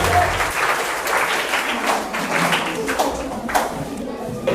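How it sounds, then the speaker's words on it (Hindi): Audience applause for a student contestant in a school quiz game, a dense, even burst of clapping from many hands that holds steady for several seconds. "अंजलि के लिए 2 कॉपी आता हुआ एक जोरदार ताली होनी चाहिए।"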